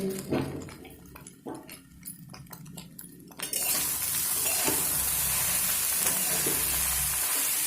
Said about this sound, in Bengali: এইভাবে মিডিয়াম ফ্লেম করে চার থেকে পাঁচ মিনিট মিনিট আমি ভেজে নেব